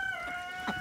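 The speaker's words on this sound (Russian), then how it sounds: "После двухнедельных морозов птицы все-таки вышли на улицу." Chickens stepping outside on a winter day after two weeks of hard frost give brief clucking calls, a few close, fairly quiet notes over a soft outdoor background.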